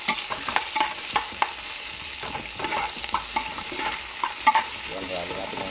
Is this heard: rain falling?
no